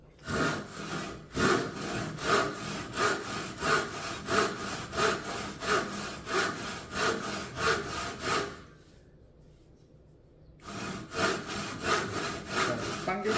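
A hand saw cuts through wood in steady, even back-and-forth strokes, loud and close, with a pause of about two seconds before the rhythmic rasping resumes.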